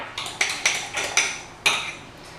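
Metal spoon clinking against a bowl while oats and milk are mixed together, a series of about six sharp close taps in an uneven rhythm with no talking.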